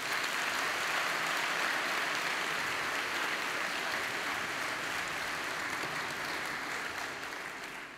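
A commencement audience at Sidwell Friends School applauds steadily and loudly, a dense, even wash of many hands clapping that holds for several seconds before starting to fade.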